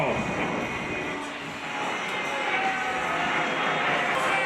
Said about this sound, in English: A little upset over the flyover that's going on right now.